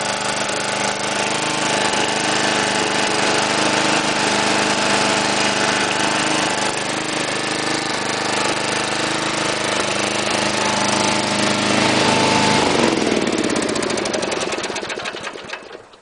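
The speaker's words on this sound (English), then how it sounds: "As you can hear, it runs pretty good, sounds smooth." A Murray rear-engine riding lawn mower runs steadily up close, a loud even small-engine drone that shifts pitch slightly near the end before fading and cutting off.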